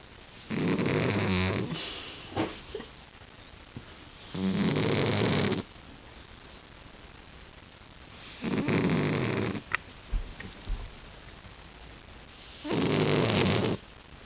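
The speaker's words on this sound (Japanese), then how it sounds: "パックちゃんのいびきです" A sleeping pet snores in four loud, evenly spaced bursts, each a raspy inhale about a second long, separated by quiet pauses with faint small noises, close to the microphone.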